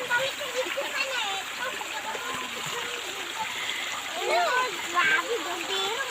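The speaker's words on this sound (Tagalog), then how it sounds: "ganito maglaba" Laundry is being washed by hand, with water splashing and sloshing steadily and a couple of louder bursts near the end, while people talk throughout.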